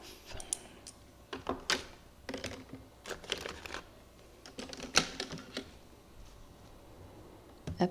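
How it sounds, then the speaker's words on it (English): Masking tape peeled off paper during a mixed-media landscape painting session: a series of close, crackly tearing bursts in uneven spurts, with no voices over them. "Okay, let's take this tape off."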